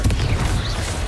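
A brief Confringo fire spell explosion in Hogwarts Legacy, a deep boom at the start that decays into a rolling low rumble, loud and close.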